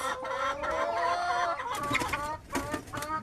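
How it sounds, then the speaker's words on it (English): Chickens on a poultry farm cluck and squawk close by, a busy series of rising calls and short clucks overlapping one another without talk. "Good chickens."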